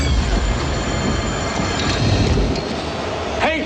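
A subway train speeds along loudly and close, with a continuous rumble and clatter, then a sharp squeal of wheels near the end.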